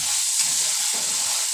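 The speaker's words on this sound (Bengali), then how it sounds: "দেখুন আমার মশলাটা ভাজা হয়ে গেছে খুব সুন্দর" Spice paste sizzles steadily in hot oil for a vegetarian banana-flower curry, a continuous close crackling hiss with no voices.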